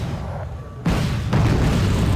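Rocket artillery from an MRV launcher fires in Wargame: Red Dragon, two heavy booms in quick succession followed by a sustained rumbling roar.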